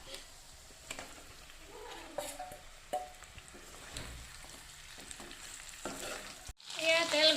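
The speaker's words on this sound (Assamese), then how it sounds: "এয়া মাংস বনি আছে, অকণমান ময়ো লৰাই দিছোঁ।" Chicken meat frying with onion while being stirred: a quiet sizzle with scattered scrapes and knocks of the spatula, then a louder, brighter burst of sizzling near the end.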